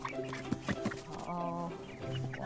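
Four nine-week-old chicks from a local breeder cluck and chatter in a series of short, close calls with a few longer sustained notes, with no talking.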